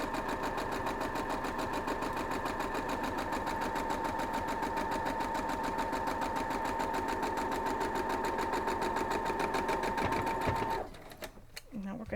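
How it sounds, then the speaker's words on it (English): A sewing machine stitches quilt block fabric with a fast, steady mechanical whir that runs close and loud for about eleven seconds before stopping, with handling noise after. "I have this one over here to sew down"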